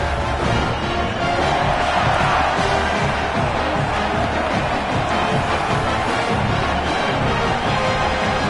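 A huge stadium crowd roars and cheers continuously at a college football game between Virginia Tech and South Carolina as the team makes its entrance, loud and sustained without a break.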